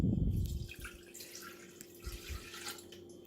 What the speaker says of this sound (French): Là, je vais mettre le lait.